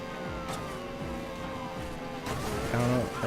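A high-revving Mazda RX-7 engine in a Need for Speed video game whines and rises repeatedly through gear shifts, with a brief tonal burst near the end.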